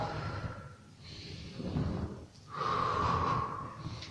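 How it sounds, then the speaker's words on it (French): Forceful exhaling during a Swiss ball workout: breathy, rushing breaths blown out in long pushes with a quieter inhale between them, close to the microphone. "Soufflez bien."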